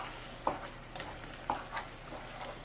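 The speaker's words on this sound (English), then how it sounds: "Give her a stir." Chili being stirred in a crock pot, a few soft scraping and knocking spoon strokes against the pot over a faint simmering bubble, quiet and close.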